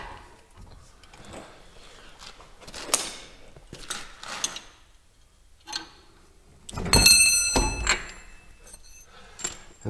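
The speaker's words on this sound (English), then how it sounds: "I have my bigger torque wrench here." Large torque wrench tightening the wheel bearing nut on a Chevy Malibu, heard as scattered ratcheting clicks and metallic creaks in short bursts, with a louder clattering stretch near the end, close by.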